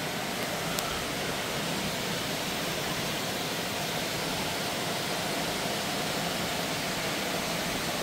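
A constant, broad rushing roar of water, steady and unchanging like a waterfall, with no voices.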